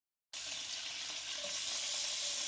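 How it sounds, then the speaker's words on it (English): Peppers and tomatoes hit a hot pan for a Tuscan chicken dish and break into a loud, steady hiss of sizzling that starts abruptly and continues without talk. "Listen to that sizzle."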